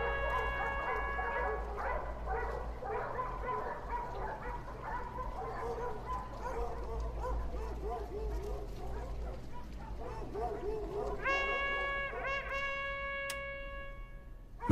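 A pack of hunting dogs bays and yelps continuously during a hunt, many overlapping howling, wavering barks at mid distance, with a brief horn-like sustained tone joining near the end.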